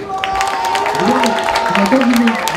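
An audience at a community soup-tasting contest applauds in a dense, steady wash of clapping, with a voice speaking over it near the end.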